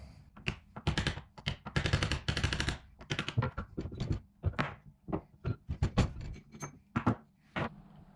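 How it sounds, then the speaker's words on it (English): Brass hammer knocking parts out of a Nissan Patrol differential, a rapid series of close, sharp metallic taps in irregular clusters, some blows heavier, with brief gaps between. "Brass hammer."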